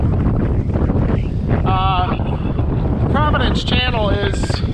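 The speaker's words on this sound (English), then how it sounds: "we've got strong to near gale force southwesterlies" Strong to near-gale southwesterly wind ahead of an approaching cold front roars steadily over a sailboat under way, a loud, unbroken rush of gusts with voices speaking now and then through it.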